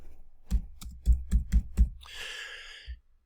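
Typing on a computer keyboard into a Merch by Amazon upload page: a short run of six or seven crisp, close keystrokes at a steady pace, followed by a brief breathy hiss, with no voices.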